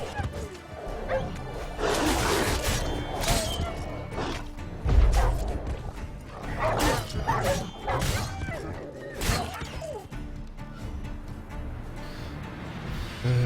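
Dogs in The Witcher 3: Wild Hunt bark and snarl amid crashing combat sounds and swooshes, with repeated sharp bursts over a busy, moderately loud mix.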